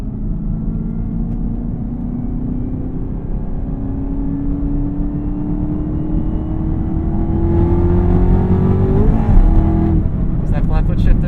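A supercharged 2021 Chevrolet Camaro ZL1 V8 accelerates hard, its engine note climbing steadily under heavy load from inside the car, then a flat-foot shift briefly breaks the pitch before a crackling pop and the climb resumes.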